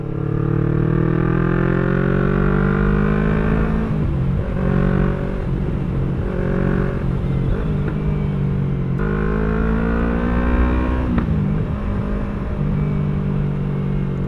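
A 2018 Yamaha R3 V1 motorcycle with a loud aftermarket exhaust, its engine held close and loud, rising and falling through several throttle revs in a continuous harsh drone, no voices.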